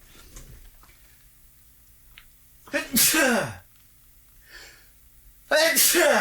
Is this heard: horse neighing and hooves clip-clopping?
no